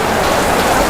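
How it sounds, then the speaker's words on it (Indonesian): Heavy rain pours down on an outdoor religious gathering in a dense, loud, steady hiss that fills the whole moment, with no voices. "Walaupun hanya kita ini dihantam hujan"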